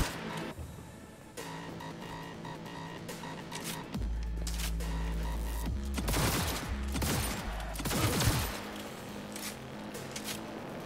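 Gunfire from a shotgun and other weapons in the video game Cyberpunk 2077, a sustained fusillade of loud, rapid shots and booms over a busy game soundscape, with heavy low-end blasts through the middle.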